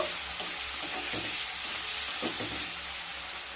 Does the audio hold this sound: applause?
no